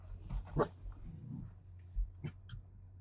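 A dog named Beetle gives a few soft, faint whimpers and short vocal bursts, close by and quiet, with brief pauses between the sounds.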